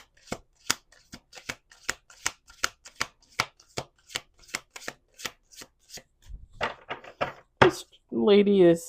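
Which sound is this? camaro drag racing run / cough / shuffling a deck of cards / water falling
shuffling a deck of cards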